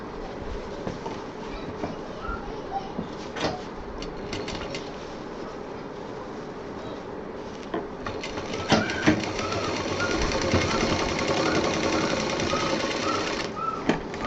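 Sewing machine stitching the seams of a homemade designer bottle case with piping, a steady mechanical whir with rattling bursts that grows louder and busier in the second half, heard alone.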